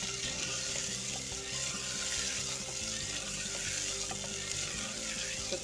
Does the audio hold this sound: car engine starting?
no